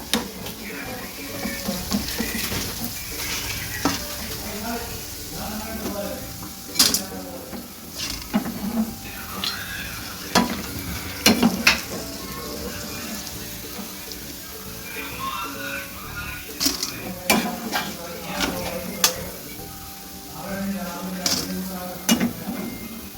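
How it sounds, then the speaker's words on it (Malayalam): Snacks frying in hot oil over a medium flame, a steady dense sizzle and bubbling with occasional stirring clinks of a utensil against the pan, continuous throughout. "ഇതുപോലെ ബാക്കിയുള്ളതെല്ലാം നമുക്കിങ്ങനെ ഫ്രൈ ചെയ്തെടുക്കാമേ ഒത്തിരി കരിഞ്ഞു പോകരുത് നമ്മളൊരു മീഡിയം ഫ്ലെയിമിലേ വെക്കാവേ"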